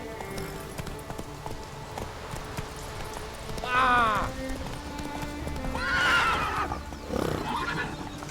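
Roach, a horse in The Witcher 3, gallops with steady rhythmic hoofbeats under faint game ambience and music, and whinnies clearly twice near the middle and once more toward the end.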